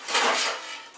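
A kitchen knife being fetched, heard as a single brief clatter of metal utensils and cutlery, close and moderately loud, fading within a second.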